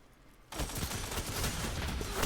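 Rapid gunfire from a video game erupts suddenly after a brief quiet moment and continues densely as a loud, sustained burst of shots with no talking.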